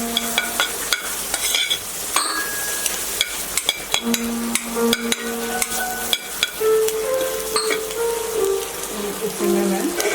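Chopped onions are lightly fried and stirred in a pan for a makhani sauce, a soft continuous sizzle broken by frequent sharp scrapes and taps of a spoon against the pan, with faint tonal kitchen sounds in the background.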